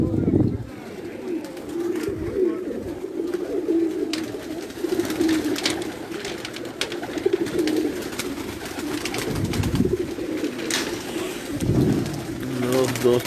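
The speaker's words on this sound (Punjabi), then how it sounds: "ਕਾਫੀ ਤਾਦਾਦ ਵਿੱਚ ਮੀਆਂ ਸਾਹਿਬ ਕੋਲ ਕਬੂਤਰ ਹਨ ਮਾਸ਼ਾਅੱਲਾ" Many pigeons coo in a loft, their overlapping low, throaty calls forming a near continuous chorus, with scattered sharper clicks and flutters and someone talking over them.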